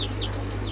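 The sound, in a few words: chickens clucking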